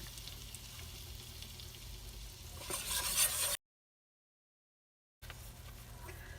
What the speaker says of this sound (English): You're making a roux.